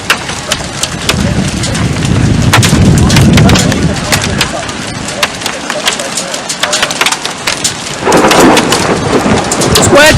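Heavy rain pounds down steadily with rumbling thunder during a tornado thunderstorm in Farnam, Nebraska, loud and close throughout, with brief voices faintly present.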